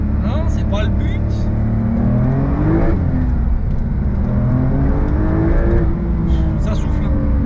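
A Porsche 992 engine pulls hard under acceleration, its rising, strained tone climbing through gears with a brief dip near the middle, heard from inside the car while someone talks over it.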